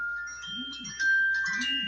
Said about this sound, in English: Excuse the phone, sorry.